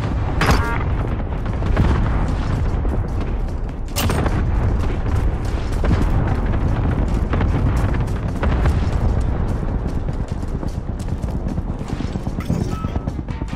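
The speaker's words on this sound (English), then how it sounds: "Cluster strike away." Cluster strike explosions in Call of Duty: Modern Warfare, a dense, loud barrage of booms and blasts rolling continuously for many seconds with sharp bursts among the rumble.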